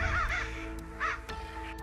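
A crow gives a few harsh, nasal caws in quick succession, close and fairly loud against a faint background.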